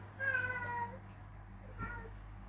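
A house cat meows nearby, one drawn-out meow followed a second later by a shorter, fainter one, over a quiet room hum.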